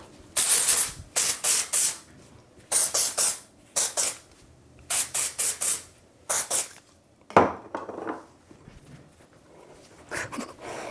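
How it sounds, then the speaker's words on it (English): Repeated short bursts of dry volume hair spray hiss from an aerosol can, several quick sprays in clusters with brief pauses between. "Okay, dry volume spray."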